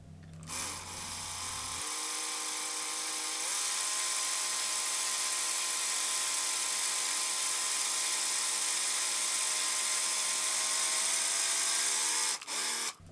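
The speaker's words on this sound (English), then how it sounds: "I kept going back to it and re-drilling and going back to it just to make sure I wasn't taking too much out" A small drill bores into the soft plastic head of a 1978 Kenner Star Wars Greedo figure held in a vise, a loud, steady high-pitched whine that holds for about ten seconds before cutting off, with no talking.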